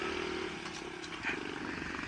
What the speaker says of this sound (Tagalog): Hirap na hirap yung motor ko.